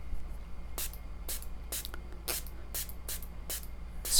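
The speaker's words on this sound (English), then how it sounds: "Spraying quite a lot, really getting it wet." A spray bottle mists water in quick hissing bursts, about eight short sprays in a loose rhythm, close and fairly crisp, with no talking.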